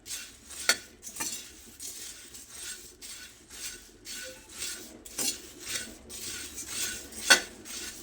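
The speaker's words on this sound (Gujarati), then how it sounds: "આ રીતે હલાવતા રહેવાનું છે એટલે બધા જ મમરા સરસ ક્રિસ્પી થઈ જાય." Puffed rice (mamra) roasting in a pan over a low flame, stirred with a metal spoon, giving rhythmic scraping and clinking strokes with a light rustling crackle, close and steady, no speech.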